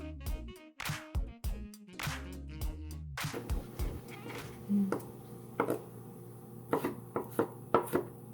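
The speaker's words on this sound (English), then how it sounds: "we're going to chop this up" Knife chopping through ingredients on a cutting board for Greek chicken souvlaki, first in a quick run of loud, close strokes, then in slower, spaced single chops and taps against a steady low kitchen hum.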